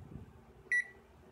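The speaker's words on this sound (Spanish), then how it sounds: "la chicharra ahora suena normal" An Electrolux direct-drive washing machine's control board buzzer gives one short, clear electronic beep after board repair, sounding alone against a faint background hiss.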